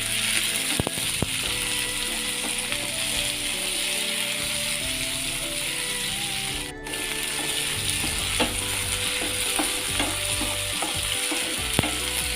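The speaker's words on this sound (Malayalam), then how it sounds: "നീളത്തിലരിഞ്ഞ വെളുത്തുള്ളി ആറെണ്ണം പിന്നെ തക്കാളി ഒരെണ്ണം ഇത്രയും കൂടെ വഴറ്റി കൊടുക്കാം" Sliced garlic, ginger and tomato sauté in a pan for a hotel-style Kerala fish curry, a steady close sizzle broken by clicking and scraping as the pan is stirred, with no voices.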